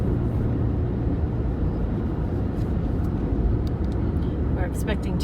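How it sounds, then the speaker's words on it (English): Steady low wind roar and buffeting against a moving car on a breezy day driving in the Blue Mountains, continuous and fairly loud throughout, with no talk over it. "It's definitely very breezy."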